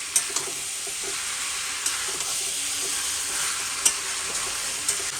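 Chicken with spices frying in a pan, a continuous close hiss of sizzling oil with soft stirring scrapes and a few light utensil taps, steady and fairly loud, no voices.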